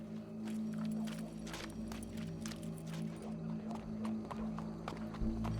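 Steady clip-clop of horse hooves at a walking pace over a constant humming background, with a synthetic, game-like quality, from Red Dead Redemption 2.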